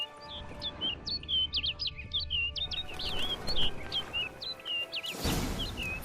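Bird chirping in The Witcher 3: Blood and Wine, a rapid series of bright, high tweets and trills close by for several seconds, then fading as a rushing whoosh takes over.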